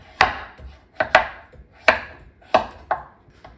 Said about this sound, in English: To cut our squash into cubes, I'm just gonna cut them into rings.